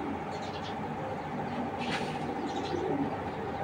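Afsan Grizzle pigeon pair cooing softly in a low steady murmur, close by under a constant hiss, with a few faint chirps mixed in.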